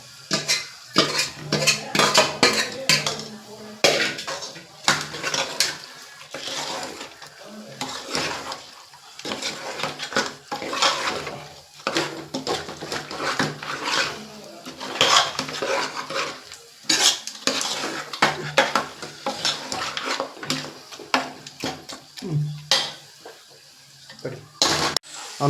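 Raw mutton being stirred in a metal cooking pot for a home-style mutton curry, with steady scraping and clattering of a utensil against the pot, close and continuous, plus faint sizzling and occasional brief voices.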